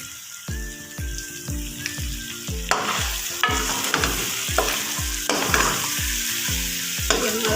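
Beef gosht being stirred in a hot pan, loud rhythmic spatula scrapes and knocks repeating about twice a second over a constant close sizzle.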